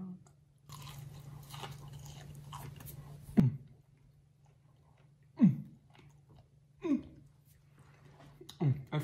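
Someone bites into a hot air-fried chicken strip and chews, with four crunchy bites spaced a few seconds apart, close up, among soft mouth sounds and low background hum.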